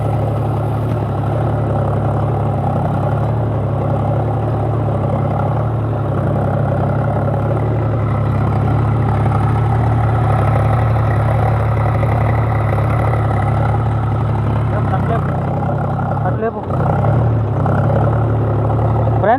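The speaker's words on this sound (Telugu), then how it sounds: "ట్రాక్టర్ పైన పొలం దున్నుడు నేర్పిస్తున్నాను" A tractor ploughing a field drones with a steady, close, low engine rumble that barely changes, with a brief dip near the end and no voices.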